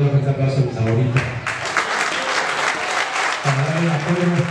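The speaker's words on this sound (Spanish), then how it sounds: "que me da un fuerte aplauso a mis favoritos" An event audience breaks into applause in the middle, with bursts of clapping overlapping a voice talking at the start and end.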